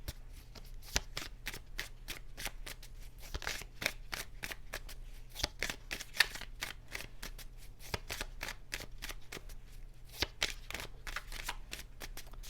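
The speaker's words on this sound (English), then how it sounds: "So let me just do a quick shuffle." Tarot cards being shuffled for a Celtic cross reading: a quick, close, rhythmic run of crisp card slaps and riffles that goes on steadily for several seconds, with no speech.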